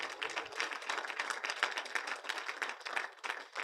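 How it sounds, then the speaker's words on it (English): Audience applause at an East African youth gathering, dense and sustained clapping from a crowd that stays steady and fairly loud throughout, with no talk over it. "I want us to even clap harder for us who are in this place right now"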